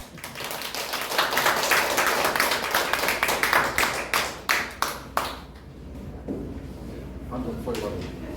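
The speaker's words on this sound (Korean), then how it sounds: "크게 박수를 한번 보시죠" An audience claps to welcome a lecturer, with a dense burst of applause thinning into a few separate, sharp claps before it stops. Quieter room noise and faint voices follow.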